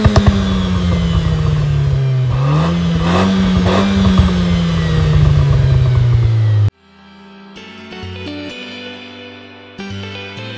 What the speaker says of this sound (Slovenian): Akrapovičeva simfonija zapakirana v tale hud izpuh.